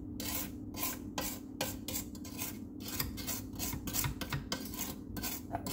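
A spatula scrapes around the sides of a KitchenAid mixing bowl holding wet pineapple cream cheese pound cake batter, quick repeated scraping strokes close by with a low mixer hum underneath.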